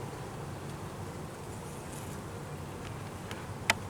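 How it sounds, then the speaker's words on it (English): Bees swarm in a home yard, a dense, even buzz of many insects filling the air at low level throughout, with a brief sharp click near the end. "Do you know how many bees I have in my yard right now?"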